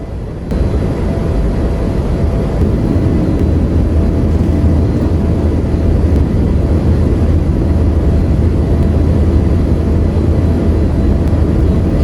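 Inside an airplane cabin during a flight to Langkawi, Malaysia, a loud, steady broadband roar of engines and airflow fills the space, unbroken and constant throughout.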